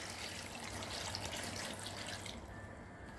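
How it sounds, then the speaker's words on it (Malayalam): Water poured from a container into a cooking pot of washed vegetable pieces for a Kerala-style puzhukku, a steady splashing pour that runs for about two seconds and then stops, leaving a quieter hiss. "നമുക്കിത് വേവാൻ പരുവത്തിന് പകുതി വെള്ളം ഒഴിക്കാം."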